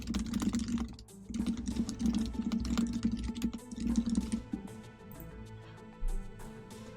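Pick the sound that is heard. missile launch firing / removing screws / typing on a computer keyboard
typing on a computer keyboard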